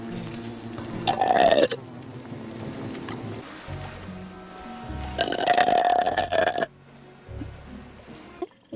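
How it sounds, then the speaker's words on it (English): Two drawn-out belches from a young woman, the first short and throaty, the second longer and louder with a sustained tonal croak, each standing out against faint background noise. "Burped."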